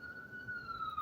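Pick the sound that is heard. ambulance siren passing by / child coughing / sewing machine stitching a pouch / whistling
ambulance siren passing by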